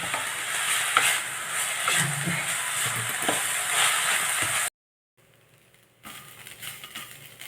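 Drumstick leaves sautéing in a pan, a dense close sizzle with stirring scrapes and knocks that cuts to silence, then returns fainter.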